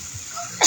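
A single short, sharp cough bursts out near the end after a quiet, muffled background, close to the listener.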